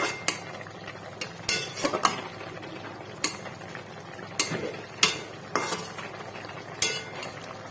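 A spoon scrapes and clinks against a pan as puti fish and okra curry is stirred, giving about a dozen sharp knocks at an uneven pace over a soft simmer. Close, with no talk.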